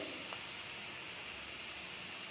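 Onions and garlic sautéing in a pan for Tamil kara kulambu give a steady, soft broadband hiss that holds evenly throughout without pause, a faint sizzle with no voices over it.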